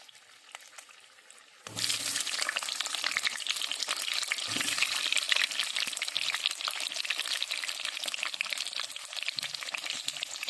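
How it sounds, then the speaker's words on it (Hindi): Potato pieces drop into hot oil, and after a quiet moment a sudden loud, steady frying sizzle starts and holds close up to the end. "आम एबे काटिक रखि आलू को टिके फ्राए करदेबा"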